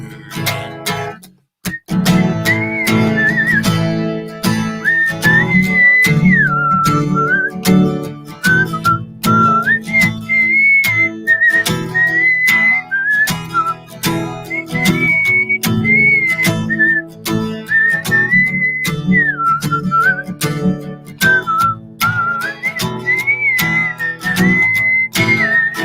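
A person whistles a song alone, a clear sustained melody with sliding notes and short phrases that runs continuously and loud with only a brief pause near the start.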